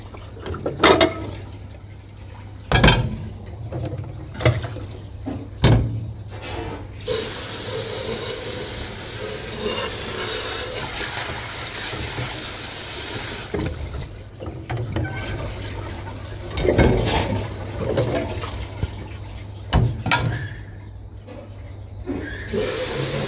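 A dishwasher running with water, a steady loud hiss and rush of spray lasting several seconds, broken by clanks and knocks before and after.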